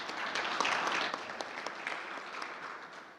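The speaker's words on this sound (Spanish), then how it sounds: "Un aplauso para Matías." An audience at a conference on maritime logistics applauds a speaker, a dense wash of clapping that starts strong and gradually thins and fades over a few seconds.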